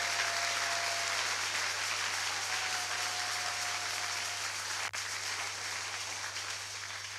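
A church congregation applauds and acclaims the Lord during a French-language revival service, a sustained wash of clapping at a distance, fairly faint over a steady low hum, with a brief dropout near the end.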